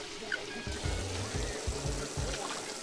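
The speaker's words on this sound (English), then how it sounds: "And wash my hands." Water runs from a tap while hands are washed in a restroom in the video game Persona. A moderate, steady trickle and splash sits under soft background tones, broken by a few short, low pulses.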